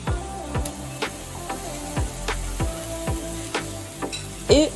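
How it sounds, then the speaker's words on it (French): Beef burger patties searing in a hot pan give a low, steady sizzle, with a series of sharp clicks and taps at roughly regular intervals over it, fairly close and moderately loud. "les steaks hachés, je vais les faire sauter, je vais les faire cuire 2 minutes chaque face"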